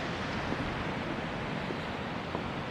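Sea waves wash against the coast, a soft, steady broadband rush of surf heard from some distance, with light wind and no talk.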